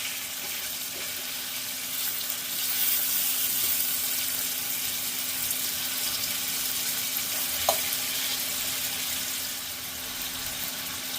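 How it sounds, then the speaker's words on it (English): Oxtail pieces fry in a pot for curry, a steady, even hiss and sizzle running the full length at constant loudness, with one faint clink partway through and no talking. "Just kind of fry off the rawness off of the meat"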